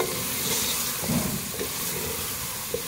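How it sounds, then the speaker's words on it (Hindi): Chicken with whole black pepper and cinnamon frying over a high flame, a dense continuous hiss and sizzle with a few faint stirring scrapes, steady and close. "मिक्स करेंगे, अच्छी तरह से भूनेंगे तेज आंच पे।"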